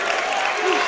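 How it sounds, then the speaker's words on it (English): Crowd at a girls varsity volleyball state final cheers and claps loudly after a point, a brief sustained roar of applause in an indoor gym. "she'll get the point to a large Bulldog cheer"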